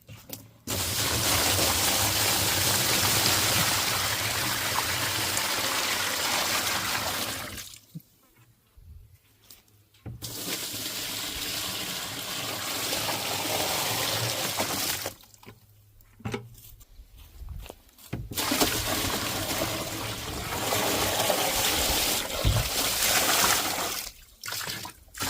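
Water being poured from a jug into a large container for homemade fertilizer, long steady splashing pours broken by short quiet gaps as the jug is refilled, close and loud.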